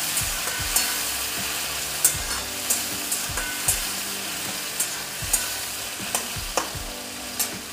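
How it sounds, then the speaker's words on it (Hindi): Tomatoes frying with spices in a pan for sabudana khichdi, a steady close sizzle with regular scraping strokes of a spoon stirring about once a second, no voices. "अब मैं इसमें टमाटर डालूंगी। टमाटर को मैं थोड़ा सा फ्राई करूंगी।"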